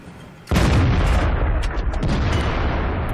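A T-54 tank cannon fires in World of Tanks, a sudden loud boom that breaks over quiet background and rolls on as a sustained rumbling tail.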